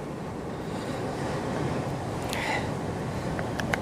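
Turbulent sea after Storm Darragh off Hendon Prom, a continuous broadband roar of breaking waves and surf mixed with gusting wind buffeting the microphone, steady and fairly loud, with a few faint high clinks near the end.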